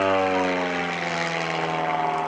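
The propeller engine of an Extreme Decathlon aerobatic plane drones loudly and steadily at the Greenwood Lake airshow, a strong harmonic buzz that holds throughout, with no talking.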